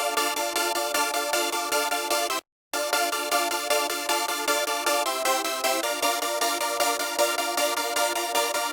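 Hardstyle melody built from bright, dense plug chords stacked across the track, playing continuously at steady volume with a brief dropout near the third second, no voices present.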